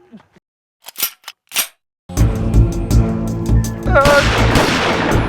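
A few sharp bursts of gunfire ring out, followed by a loud, busy stretch of dramatic music and effects with more shots blended in.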